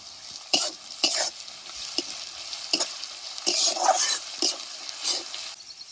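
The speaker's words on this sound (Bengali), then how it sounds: "রসুনটা ভালো করে ভাজা হয়ে গেছে" Crushed garlic fries in a pan for village-style paneer do pyaza, a steady sizzle broken by repeated sharp scraping stir strokes close up, with no voices.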